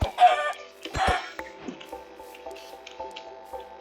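Chickens in the Minecraft video game, a few soft clucks and squishy game sounds, faint and sparse, with no talk.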